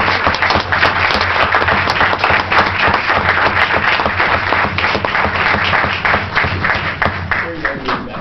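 Council chamber audience at a mayor and council meeting applauds police officers, a loud, steady round of clapping with distinct individual claps audible, lasting several seconds with faint voices underneath.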